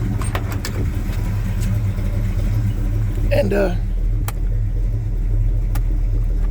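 An old Chevy C10 truck engine runs steadily nearby, a low continuous rumble with a brief burst of higher-pitched noise midway, while someone talks over it.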